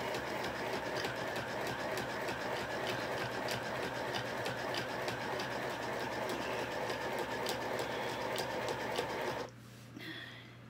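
Electric sewing machine runs at low speed with a steady, rapid mechanical clatter for about nine seconds, then stops abruptly, leaving a quiet room.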